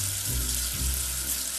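In an educational alphabet video game, water runs steadily to rinse soap off a dirty letter, a soft, even rush with no voices.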